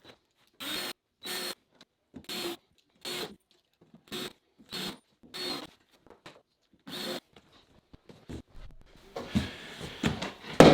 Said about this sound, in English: we'll continue on screwing this down just like we did the bottom.